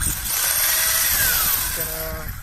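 An HSP Kid King 1/16 RC car with a brushed motor and steel pinion, spur and bevel gears runs on a 3S lipo, giving a loud, high, whining motor buzz that rises and then fades slightly, close by.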